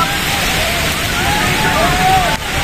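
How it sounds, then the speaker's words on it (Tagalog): Heavy rain pouring down at an open road bike race in Meycauayan, Bulacan, a dense, loud wash of noise with a man announcing over it. "Grabe ang ulan, oh, lakas."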